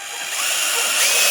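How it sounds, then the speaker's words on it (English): A power drill bores a hole for a lag screw while a chicken tractor is readied, a loud, high whining buzz that rises slightly and holds steady for about a second, with no talking. "we're going to drill a hole"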